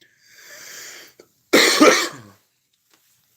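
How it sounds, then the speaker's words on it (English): A single harsh cough bursts out close to the microphone after a soft breathy exhale, short and loud, then silence. "I really didn't have to cough"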